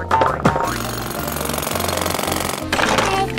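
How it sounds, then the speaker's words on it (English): Toy gold bar being drilled, a loud continuous rattling motor whine with a harsh buzzing grind that runs for about two seconds, then cuts off abruptly. "And we can drill it too."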